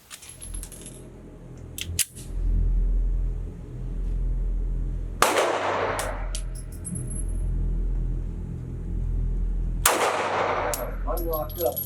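Kimber Micro 9 pistol fired at an indoor range, a few sharp, loud cracks spaced seconds apart, each trailing a quick echo, with a low steady hum of ventilation in between.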